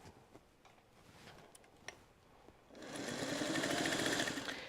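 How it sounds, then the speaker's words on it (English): A sewing machine stitches binding onto a quilt, kicking in after a near-silent pause with a few faint clicks, then running in one steady, fairly close burst for the last couple of seconds. "I'm just going to stitch a few inches"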